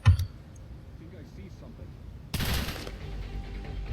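Gunfire in the video game Cepheus Protocol, with a faint shot at the start and a dense, loud burst of rapid fire in the second half that continues as a sustained rattle.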